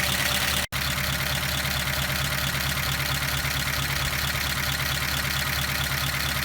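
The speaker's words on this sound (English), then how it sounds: "So now I want to make sure that it's running on all 8 cylinders." A 1953 Pontiac Chieftain V8 idles steadily up close, a continuous low rumble with an even pulse and one brief dropout near the start, with no talking.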